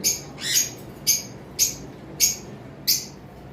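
Pet lovebirds kept at a bird farm give sharp, bright squawks and chirps, about six separate calls at a fairly regular pace, close and loud against a quiet background.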